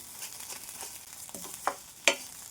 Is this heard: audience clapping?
no